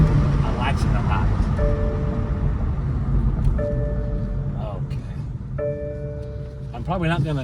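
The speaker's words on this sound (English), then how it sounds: "I don't hear anything at all besides dinging, dinging, dinging. Oh, that's a seatbelt warning." A car's seatbelt warning chime dings repeatedly in a steady rhythm at a busy dealer auction lot, sounding close and clear over a constant background rumble of engines and crowd noise.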